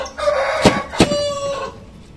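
An Índio Gigante chicken crows close by, a drawn-out strained call broken by two sharp clucks partway through, loud and clear.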